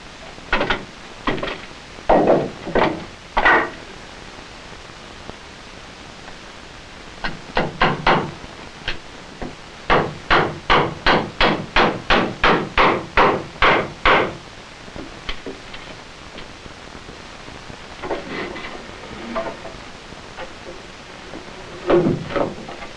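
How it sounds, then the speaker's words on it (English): Nails hammered by hand to toenail wooden joists into a beam while building a family fallout shelter: scattered knocks, then a long run of steady ringing blows, then a few more strikes, loud and close. "Also necessary to toenail the joist into the beam"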